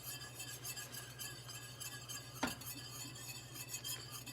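A spoon stirs polenta in a pot, a faint, steady scraping swirl under a low hum with one soft clink partway through.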